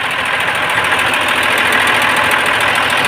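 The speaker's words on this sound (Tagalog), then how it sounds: "Umandar na yung ating uh, generator na 6D24." A 6D24 diesel generator engine runs steadily at close range, a loud continuous idling drone with a knocking mechanical pulse, alone without talk.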